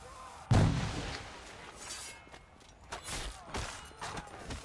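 Bombs from ships in Assassin's Creed 4: Black Flag during a naval battle, with one sharp heavy blast up front followed by duller, softer booms and rumbling under light background noise.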